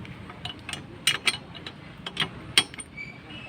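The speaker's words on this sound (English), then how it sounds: "progressively tighten the bolts slowly, one by one." Cylinder head bolts on a Yamaha RX 100 being tightened slowly one by one during a head gasket change, a few sparse, sharp metallic clicks and ticks close up in a quiet setting.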